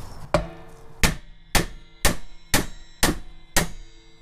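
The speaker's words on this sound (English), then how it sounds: "You just give it some firm blows and drive the stud out of the bearing case." A brass hammer strikes a steel stud seven times in an even, firm rhythm, driving it out of a Toyota rear axle bearing case; each blow is a sharp, close, ringing metallic hit with no talk.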